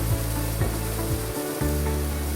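Spice masala for chicken keema chana fries in a pan while being stirred, a steady close sizzle with rhythmic spoon scrapes and a brief lull before the sizzle resumes.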